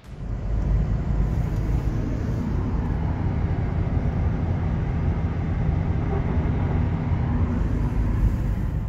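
A Subaru Legacy with a replacement original exhaust runs steadily with a low, smooth exhaust hum, quieter and less rumbly, with a constant background drone throughout.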